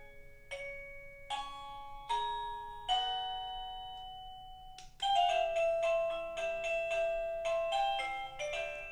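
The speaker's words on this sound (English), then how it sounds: "The doorbell done told you twice." A series of melodic electronic chimes rings out, bright tones sounding in several short phrases, then a faster run of repeated notes, with no talking.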